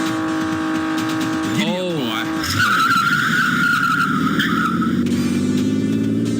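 Tires squeal in a long skid from a car in a driving video game, loud and sustained over engine roar, with a brief voice talking beforehand.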